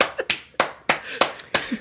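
Hand clapping: about six sharp, uneven claps spaced irregularly, close and fairly loud, with no talking.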